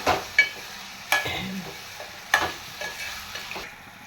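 Chicken pieces sizzle in a pan of softened cooking base for a chicken curry, with a few scraping stirs of a spoon over a quiet, steady frying hiss.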